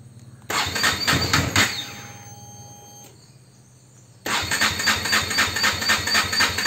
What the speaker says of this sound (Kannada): ನಮ್ಮ ಬೈಕ್ ಸ್ಟಾರ್ಟ್ ಆಗ್ತಿಲ್ಲ